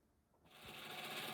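A longarm quilting machine, an Innova with Pantovision, stitches across a quilt border, its steady mechanical hum starting softly and then rising to a loud, continuous whir.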